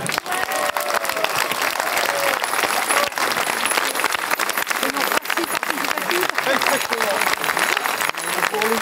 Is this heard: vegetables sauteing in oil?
no